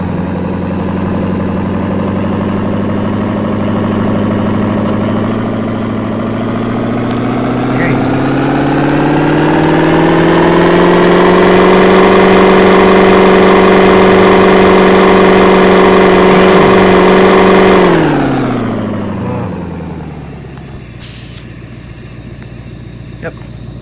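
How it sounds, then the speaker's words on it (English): A truck stuck in a lake idles, then its engine revs up into a long strained drone and falls back, loud and close, with people talking over it. "this truck is so slow"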